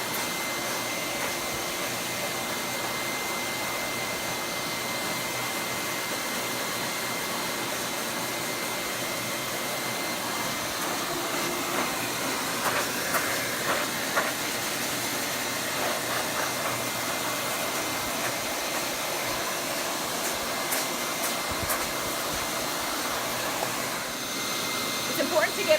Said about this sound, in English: It's important to get all the way down to their skin when you dry their fur.